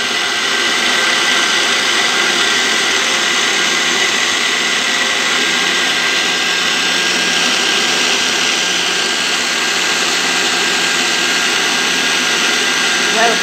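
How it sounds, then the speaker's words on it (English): A blender blending plantain and oats whirs loudly and steadily, a constant high-pitched motor drone with no pauses from start to finish. "plantain and oats blending together"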